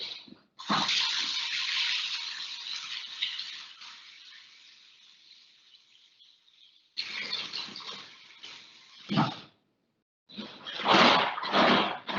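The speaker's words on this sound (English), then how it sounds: "Just going to wash my hands." Tap water runs and splashes while hands are washed at a kitchen sink during biscuit and sausage gravy prep, a steady loud gush that stops, then resumes in shorter bursts with a brief pause.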